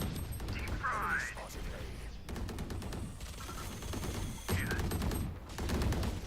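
Gunfire in the tactical shooter VALORANT, with bursts of rapid shots and a few heavier reports spread across the moment, heard amid game noise under steady player talk.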